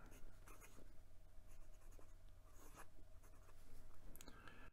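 A Ranga 3C ebonite fountain pen with a number 6 nib writes across Clairefontaine 90 gsm paper, giving a close, quiet, steady scratching with short stroke bursts and brief pauses, over a faint low hum.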